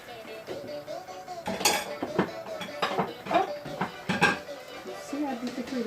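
A spoon stirs a pot of bell pepper ofada stew, with scattered metallic clinks and scrapes against the pot over several seconds, fairly quiet.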